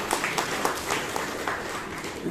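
Members at a Toastmasters club meeting applauding together, a moderate, even patter of many hands clapping throughout, fairly close and without a clear peak.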